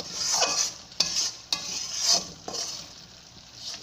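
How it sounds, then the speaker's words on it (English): A spoon scrapes around a pan of hot Mysore pak mixture made with ghee and oil, giving a bubbling sizzle broken by several distinct stirring strokes and scrapes at close range. "See, you have to keep on stirring it, okay?"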